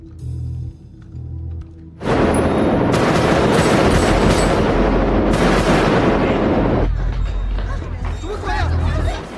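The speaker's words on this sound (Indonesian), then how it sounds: "bahkan penjahat itu meledakkan mereka di dalam terowongan" Loud explosion followed by sustained gunfire and blasts inside a tunnel during a police raid on a criminal gang in the film Blackhat, over a background music score, with the dense roar lasting several seconds before easing.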